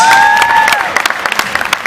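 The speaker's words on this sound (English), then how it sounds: "a big round of applause for your finalists" Audience applause greets the finalists at a live Fear Factor game show stage event, a loud burst of clapping that sustains and then settles into scattered claps, with some crowd noise and a host's voice briefly over it.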